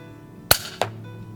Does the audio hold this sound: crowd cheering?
no